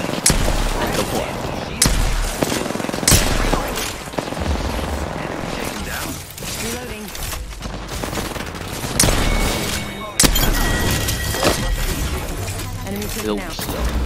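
Rapid bursts of video-game gunfire from a cockroach-juice gun, dense and continuous with frequent loud shots and booms throughout, overlapping with players chatting.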